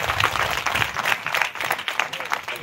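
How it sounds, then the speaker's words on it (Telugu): An audience at a religious gathering claps loudly together in a sustained burst of applause, many hands close and busy throughout, with crowd noise underneath. "అందరూ ఒకసారి గట్టిగా చప్పట్లు కొట్టండి"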